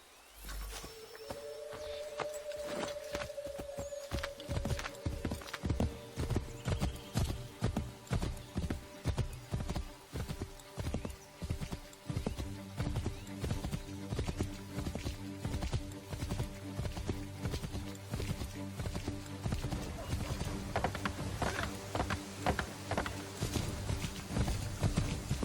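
Hooves of a horse gallop in Assassin's Creed III Remastered, a steady run of loud, rhythmic clip-clops that quicken and press on for the whole stretch, with a brief whinny near the start.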